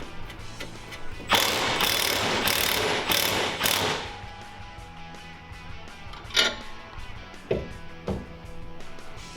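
A ratchet wrench tightens the lock nut on the lower steering clamp of a 105cc mini bike. Loud rapid clicking runs for a few seconds, followed later by a few scattered single clicks and knocks.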